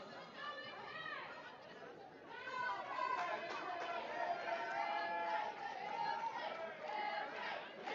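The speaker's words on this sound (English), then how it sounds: "quite the crowd out here today" Crowd of fans at an ADSSL championship softball game, a steady mass of chatter and overlapping voices, moderately loud and continuous, swelling slightly partway through with individual voices rising above the general murmur.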